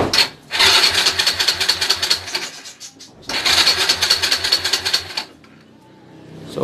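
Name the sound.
motorcycle push start engine cranking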